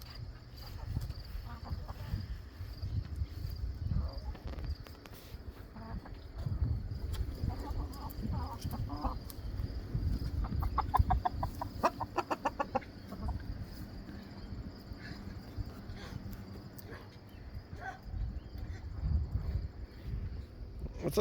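Chickens cluck in a backyard pen shared with ducks, scattered soft clucks and a short rapid run of calls rising from a low outdoor rumble, with a person talking now and then.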